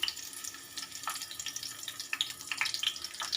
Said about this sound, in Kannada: ನಾನು ಬೆಳ್ಳುಳ್ಳಿ ಒಗ್ಗರಣೆ ಮಾಡ್ಕೊಳ್ತೀನಿ